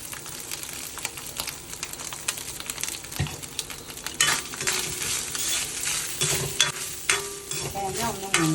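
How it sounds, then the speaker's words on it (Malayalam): Grated coconut stirred and roasted in a pan for Kerala erissery, a steady dry sizzle with scraping strokes of a spoon against the pan, close and continuous with no talking. "തേങ്ങയും കൂടെ വറുത്തിടണം. അതാണ് എരിശ്ശേരിയുടെ പ്രത്യേകത."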